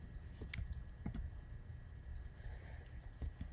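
A computer mouse clicking on calendar markers, a handful of sharp, close clicks spaced irregularly over a low room hum, with no talking.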